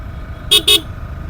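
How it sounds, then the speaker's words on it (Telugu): Two short, loud vehicle horn blasts in quick succession on a winding ghat road ride, standing out over a low steady engine rumble. "మళ్ళీ ఇట్ట తిరిగి హారన్ కొట్టాలంట."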